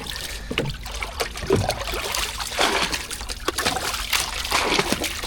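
Water is scooped and poured out of a flooded dinghy: irregular splashes, sloshing and dribbling close by, continuous and fairly loud, with no one speaking.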